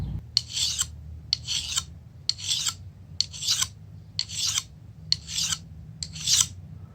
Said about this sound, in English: this little ceramic sharpener that I'm going to use to get the final sharpened edge of the blade